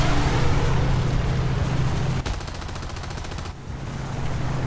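Aircraft machine guns rattle off a rapid burst during an aerial dogfight against an enemy jet in a flight combat video game, the fast stutter riding over a loud droning engine hum.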